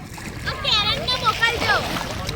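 Water splashes in a village pond or stream at Lalpura near Ahima, a few irregular splashes close by, with children's and adults' voices chattering over them.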